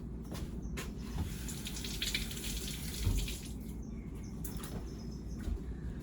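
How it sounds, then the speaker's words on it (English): Tap water runs steadily into a sink while potatoes are washed, a close, continuous splashing rush with small clatters and no talking. "So real quick, I'm going to wash these potatoes."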